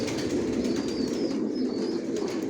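Johnson line racing pigeons coo softly in a low, repeated murmur close by, with a few faint higher chirps and light rustling in the background.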